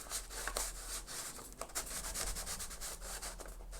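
A vintage paper envelope printed with mushrooms is pushed into a snug journal pocket, making a faint, continuous papery rubbing and scraping close by.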